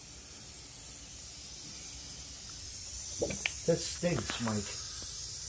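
Glue sprayed from an aerosol can while finishing a bench, heard as a steady, close hiss running through the whole stretch. Voices talk briefly over it in the middle.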